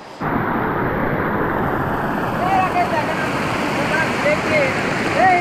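A river at Bijanbari in Darjeeling rushes in a steady, close, full hiss of flowing water that barely changes throughout, with faint birdlike chirps now and then above it.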